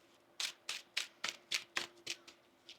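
Tarot cards are shuffled in a quick series of about nine crisp riffling bursts, close and fairly quiet.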